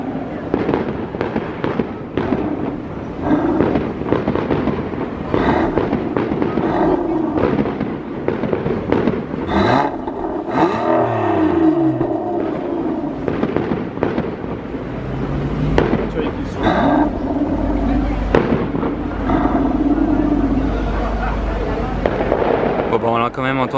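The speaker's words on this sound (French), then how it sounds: "Là, c'est deux feux d'artifice en même temps." Fireworks bursting over the sea in Monaco, a dense run of sharp cracks and booms through the whole stretch, mixed with a car passing close by and people talking nearby.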